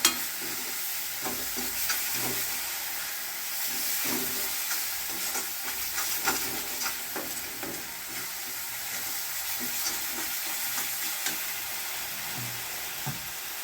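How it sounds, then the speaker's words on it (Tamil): Curry leaf and coriander thokku sautés in oil while being stirred, a constant close sizzle with soft scraping strokes of a spoon against the pan. "இது நல்லா கலக்கி எண்ணெய் பிரிகிற வரைக்கும் கொஞ்சம் நேரம் நம்ம நல்லா வதக்குவோம்"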